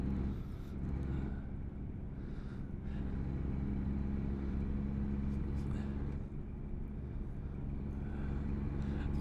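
Low, steady rumble of a truck engine in American Truck Simulator, droning continuously at moderate level under quiet talk, with a few faint higher tones drifting in and out.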